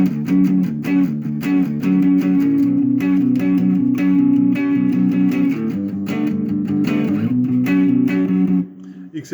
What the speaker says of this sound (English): it's largely power chords